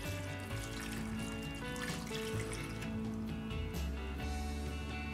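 A cup and a half of broth pours into a crockpot of potatoes for mashed potatoes, a steady liquid splash and trickle over a constant background.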